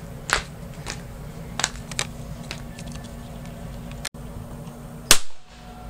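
A 1.2 kJ capacitor bank is shorted out with a single sharp, very loud bang near the end, preceded by a few small clicks and handling sounds, close by with no talk.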